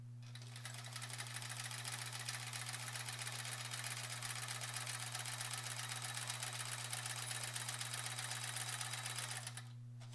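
A home sewing machine runs continuously at a steady fast stitch rate during ruler-guided free-motion quilting, a constant mechanical whir over a low electrical hum, stopping just before the end.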